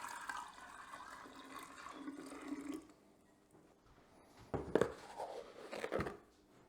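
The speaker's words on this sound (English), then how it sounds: "Add our tea to our jar." Brewed tea for homemade kombucha is poured into a jar, with a soft liquid trickle at first, a quieter pause, then louder splashing and glugging near the end, close and alone.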